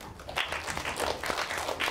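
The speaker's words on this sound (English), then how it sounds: "Give him a clap, please." A school class applauds in a classroom, a brief burst of dense, scattered clapping at moderate loudness.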